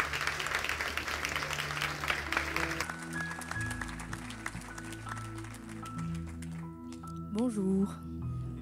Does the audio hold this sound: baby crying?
no